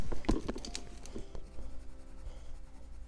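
Soft scratchy scribbling of a waxy colored pencil across paper, a few quick strokes then quieter shading, close and faint.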